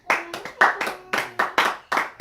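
A church congregation clapping loudly to acclaim Jesus, with quick rhythmic bursts of many hands in close succession, steady and alone without speech.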